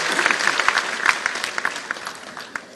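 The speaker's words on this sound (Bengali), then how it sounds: "তাদের জন্য একটা স্পেশাল হাততালি দিতে হবে।" A hall audience at a Women's Day award event claps dense, even applause for the winning cricket team, loud and close, tapering slightly toward the end.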